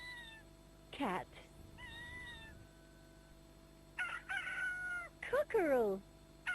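Meows from a toy sound game come in a few distinct, clear cries, mixed with a rooster crow and other electronic animal and drum sounds, loud and close over a steady low hum.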